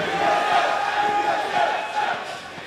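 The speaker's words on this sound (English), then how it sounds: "The battle of the team names by the crowd right now." A large esports arena crowd at a 2014 League of Legends playoff final between rival teams chants team names, a loud sustained roar of many voices with rhythmic shouted pulses filling the hall.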